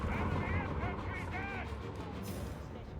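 A German Panzer tank's main gun fires in a Company of Heroes 3 match against American forces, heavy booming blasts rolling under an excited caster's running commentary.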